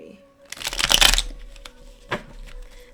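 A thick tarot deck is shuffled by hand, giving one quick riffling burst of flapping cards and then a softer tap and a single short riffle, all close up.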